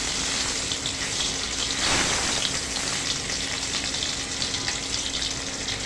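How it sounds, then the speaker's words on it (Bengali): Rui fish pieces frying in hot oil, a loud, continuous crackling sizzle that holds steady throughout with no voices. "এখন আমি মাছগুলো ভেজে নেব।"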